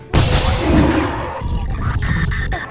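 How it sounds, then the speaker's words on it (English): A glass window set in a door shatters in a loud, sudden crash during a tense horror movie scene in an abandoned hospital, with debris and crunching continuing briefly afterward. "an arm smashes through the window on a door and grabs Sasha."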